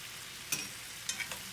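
Salmon searing in an iron skillet with thyme sprigs, a soft hiss punctuated by a few short bright crackles and spits of fat, close and without talk.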